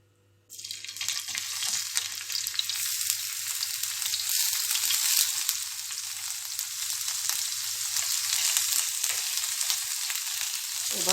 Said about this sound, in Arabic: هعمل الطشه بتاعتها كده، معلقه زيت واحده عشان هي مش ناقصه دهون يعني. احط معلقه الثوم